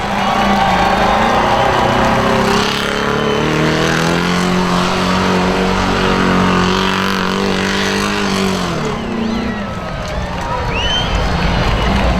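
A monster truck engine roars at a county fair, a loud, steady, heavy growl whose pitch climbs and holds before dropping briefly near the end, with crowd noise mixed underneath.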